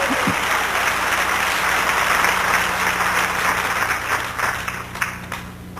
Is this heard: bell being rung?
no